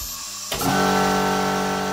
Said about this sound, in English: you've got to deal with a compressor, which is really, really loud